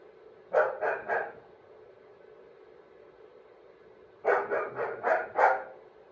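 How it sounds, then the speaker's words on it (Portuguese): A dog barks in two close bursts, three quick barks and then a run of five, loud and near in an otherwise quiet indoor room, with no talk over them. "a minha dog não para de latir"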